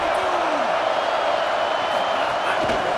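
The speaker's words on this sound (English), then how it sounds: "Listen to this crowd just shaking the girders of this place" A stadium crowd roars in EA Sports College Football, a dense, loud, continuous wash of cheering that barely varies across the stretch.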